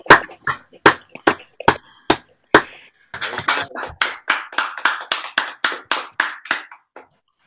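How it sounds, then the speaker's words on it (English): Scattered participants on a video call clap one after another, sharp isolated claps at first, then a quicker run of overlapping claps that fades out. "Give a round of applause."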